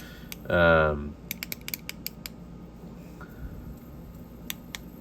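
A small fidget-style toy laid flat clicks and ratchets as it spins, with sharp, irregularly spaced mechanical ticks up close after a brief whirring creak.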